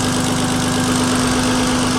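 A turbocharged BMW E46 with a blown engine and a smoking turbo runs nearby, a loud, steady drone carrying a strong tonal hum and an uneven vibrating rumble.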